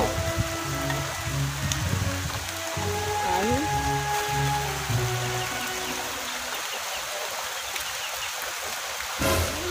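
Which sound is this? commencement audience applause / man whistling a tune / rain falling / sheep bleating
rain falling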